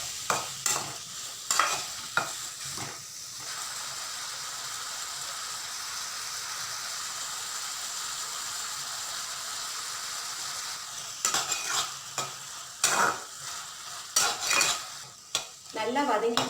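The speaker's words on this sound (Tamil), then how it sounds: "நல்லா வதங்கிடுச்சு. எல்லாமே சீக்கிரம் வேகக்கூடிய காய்கறி தான் பீர்க்கங்காவும் கேரட்டும்." Ridge gourd and carrot are sautéed in a pan, with a steady soft sizzle underneath and a series of sharp spoon scrapes and clanks against the pan at the start and again toward the end.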